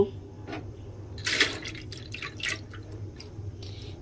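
Washed chana dal tipped into a cooking pot, making a brief cluster of wet drips, splashes and patters of liquid, fairly faint and close, with a low background hum.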